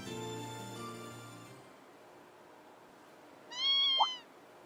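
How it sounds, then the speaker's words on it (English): A kitten meows once, clear and close, in the video game Trails of Cold Steel II. The game music fades beforehand, and a quiet gap comes before the meow. "What's a kitten doing here? Meow."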